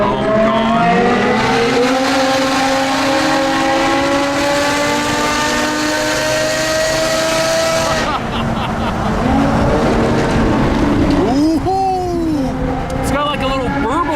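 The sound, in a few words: loud car exhaust burbling and backfiring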